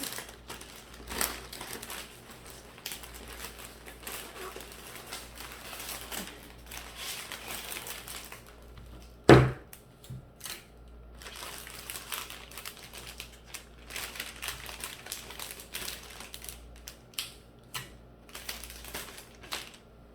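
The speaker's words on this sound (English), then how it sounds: "Let's grab the tape and tape off our edges." Adhesive tape is pulled and pressed along the edges of a homemade gift basket, giving soft crinkling and rustling with one sharp, loud rip midway and quieter handling noises around it.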